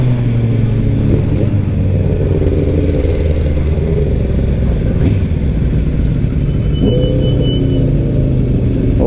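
A Kawasaki Ninja motorcycle riding on the road at a 2024 season-opening ride in Kremenchuk, its engine giving a loud, steady, close drone with a constant rumble throughout and no talk.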